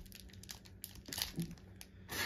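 Plastic wrapping on Animal Crossing amiibo card packs being torn and crinkled open, a close, quiet run of irregular crackles and rips with no talk.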